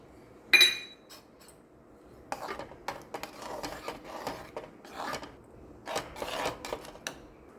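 A spoon stirs moong dal with lemon juice in a pot, making intermittent scraping and rubbing strokes against the metal after an opening clink, fairly faint and close.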